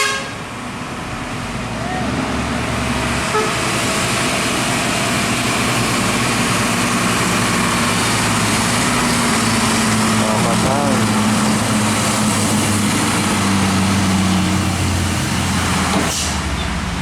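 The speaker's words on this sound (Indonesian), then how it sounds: "Depannya ada truk." A heavily loaded truck rumbles along a road with a deep, sustained engine drone amid passing traffic, horn toots and an air-brake hiss breaking in near the end, loud and close throughout.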